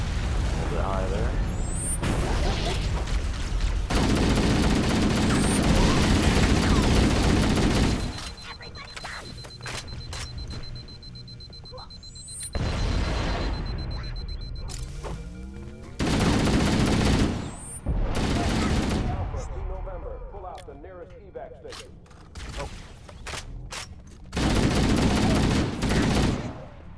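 Bursts of assault rifle fire in Halo CE Anniversary, rapid automatic volleys in several loud separate bursts with quieter gaps between, plus occasional sharp impacts and electronic effects.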